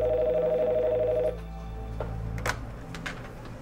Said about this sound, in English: A minute doesn't go by that the phone at SafeHaven doesn't ring.